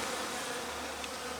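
Honeybees in a hive drone in a dense, steady buzz, close and continuous for a brief moment.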